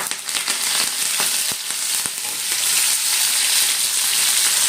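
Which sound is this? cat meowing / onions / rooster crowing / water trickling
onions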